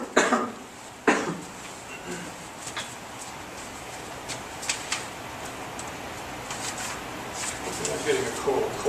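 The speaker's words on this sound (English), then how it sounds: "Actually, this room here makes me cough." A person coughs from dry throat irritation caused by the room's air, with two sharp coughs near the start and smaller throat sounds afterward, all fairly close.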